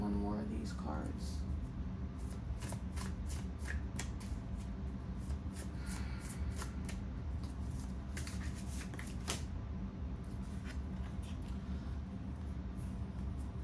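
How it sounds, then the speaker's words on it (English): Oracle cards are shuffled and pulled, a soft run of light papery flicks and taps over a steady background hum, close but quiet. "Trying to see if I can pull one more of these cards."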